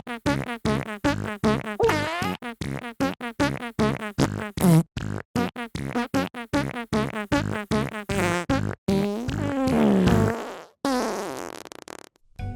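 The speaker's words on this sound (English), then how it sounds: "playing that fart music again" A comic tune built from fart sound effects plays alone, with short, pitched, buzzing bursts following one another in a quick rhythm, then a few longer stretched blasts near the end.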